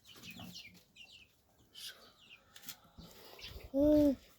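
Young chickens peep and cluck softly in the open, then a louder, short warbling cry rises near the end.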